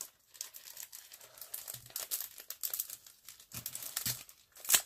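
Rustling plastic packet of flower decorations being opened by hand, with close, continuous crinkling and a few tearing crunches, fairly quiet and with no speech.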